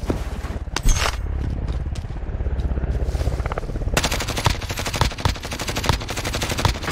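Rapid close gunfire in Call of Duty Warzone, a sustained automatic burst and then a second loud stretch of fast repeated shots, with scraping and movement noise in between.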